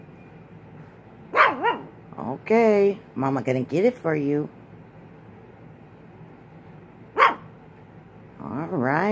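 A pet dog gives several short barks and yips close by, in bursts with pauses, while someone talks to it.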